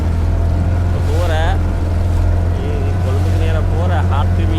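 A boat engine runs with a loud, steady low drone throughout while someone talks close by over it.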